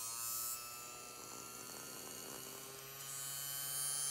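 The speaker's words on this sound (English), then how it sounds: "So the motor actually works." A Singer 221 sewing machine motor runs steadily with a low electric hum and buzz, close and continuous, swelling slightly at the start and end with no one talking.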